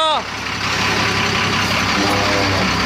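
A truck at an illegal sand mining site in the fields of Ged village, Prantij taluka, Sabarkantha, rumbles loudly and steadily nearby while people talk over the engine noise.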